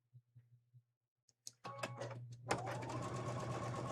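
A home sewing machine starts up after a few faint thumps and a brief clatter, then stitches steadily and continuously at close range, with no talking over it.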